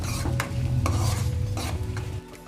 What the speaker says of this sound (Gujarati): હવે આપણે આને બરાબર મિક્સ કરી દઈએ।